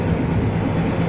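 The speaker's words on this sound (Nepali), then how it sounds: "फाइनली साथीहरू हाम्रो ट्रेन यहाँ आइसकेको छ," Train pulling into a station on the Targu Mures to Bucharest route, heard as a steady, loud low rumble and rolling noise close by, with no talk over it.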